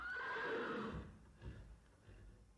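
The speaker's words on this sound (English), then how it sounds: "This is Mr. William Mackay with the last brewery horse." The last brewery horse gives a loud, drawn-out whinny that fades into a few soft snorts and low thuds, heard close with no speech.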